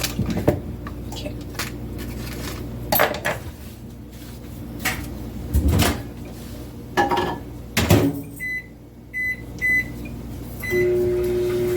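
Microwave oven melting butter, a steady low hum broken by thuds of handling, followed by a series of short electronic beeps near the end.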